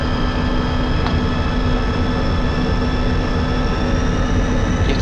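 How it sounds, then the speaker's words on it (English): A MiG-21bis jet engine in a flight video game spools up for taxiing, a steady, loud, dense roar with a thin whine running through it, continuous for the whole stretch and with no voices. "You have to throttle up quite a bit to taxi"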